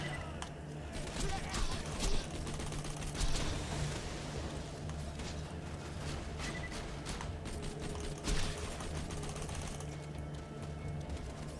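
Gunfire in Borderlands 2 rattles as steady rapid mechanical clatter at moderate loudness, running continuously under the game's background sound.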